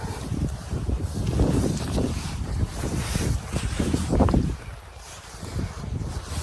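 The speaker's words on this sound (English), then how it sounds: "It's a little windy." Wind buffets the microphone in gusty, rumbling bursts, loud and close throughout, with brief lulls between stronger gusts.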